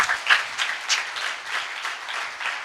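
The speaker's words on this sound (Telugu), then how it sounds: "గట్టిగా కొట్టండి చప్పట్లు" Congregation at a Sunday church service clapping loudly together, a steady wash of hand claps filling the hall for a few seconds with no talk over it.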